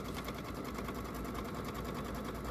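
An embroidery machine stitching quilting in the hoop, a fast steady mechanical whir with rapid regular needle clatter, close and continuous.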